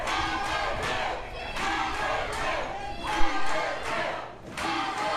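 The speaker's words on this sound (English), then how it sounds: "The crowd sounds like they're mixed right now." Wrestling arena crowd roaring in a steady, mixed wash of cheers and shouts, with a sharp thud near the middle and dense noise continuing throughout.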